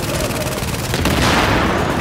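Dense video game gunfire and explosions from Tom Clancy's The Division fill the scene, a loud continuous barrage of shots and blasts with a heavier burst midway through.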